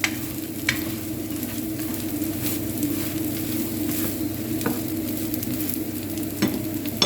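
Kebab meat and potatoes fry in a pan, a steady close sizzle and crackle with occasional stirring scrapes, continuous and fairly loud with no talking.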